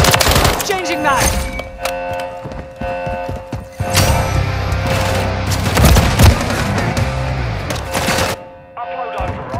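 Dense gunfire in Call of Duty: Modern Warfare 3 (2023) War Mode: rapid bursts and sharp shots pile up over a loud, steady battle din, with heavier thumps in the middle stretch before a brief dip near the end.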